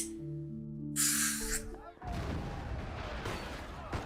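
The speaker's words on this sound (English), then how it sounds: "Gunfire and the sound of tables and chairs getting knocked over" Game-style gunfire bursts out with sharp cracks and clattering crashes in Love and Deepspace, followed by a dense rush of noisy impacts as tables and chairs are knocked over.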